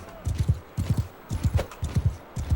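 Horse hooves clip-clop in Mount & Blade 2: Bannerlord, a steady walking gait of close, low thuds grouped in quick triplets that repeat about every half second, with faint background sound from the game.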